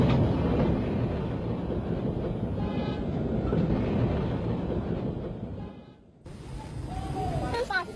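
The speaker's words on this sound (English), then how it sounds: "engine and coaches together formed a perfect period train from the turn of the century" Steam locomotive and its turn-of-the-century period coaches rumble steadily along, a loud continuous rolling roar with faint hissing, dipping briefly near the end before resuming, with a voice speaking over it.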